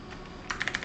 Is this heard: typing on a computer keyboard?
yes